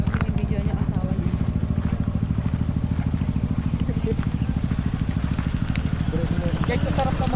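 A Honda ADV 350 scooter thrums along a road in Lobo, Batangas with a steady, close, pulsing engine rumble that runs throughout the ride.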